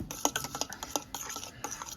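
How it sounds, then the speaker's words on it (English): A spoon stirs a buttermilk powder mixture in a bowl, a quick run of soft scraping and tapping strokes, close and fairly quiet, with no talking. "Stir that around"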